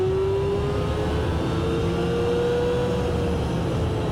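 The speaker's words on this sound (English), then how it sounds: "Really let the revs get up there and let those piston rings seat." A rebuilt 1985 Nissan 720 engine is held at high, steady revs during break-in, a continuous loud whirring drone with a slowly drifting tone and no voices.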